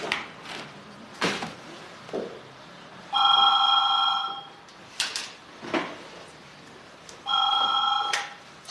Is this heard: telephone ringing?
yes